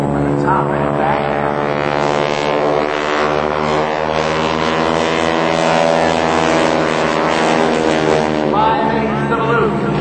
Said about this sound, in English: Listen to the sound of the engine over the top and back.